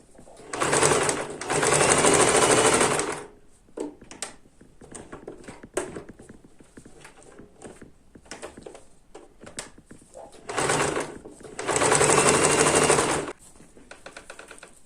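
Sewing machine stitching an appliqué ornament, running in two long bursts of fast, even needle rattle with quiet handling noises between, close and fairly loud.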